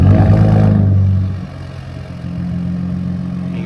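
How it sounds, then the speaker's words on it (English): A 2025 Ford Raptor pickup engine, warm-started, rumbles loudly with a deep, throaty exhaust note, then drops to a lower, steady idle burble close by. "I wanted to give you guys a quick exhaust note from firing this thing up."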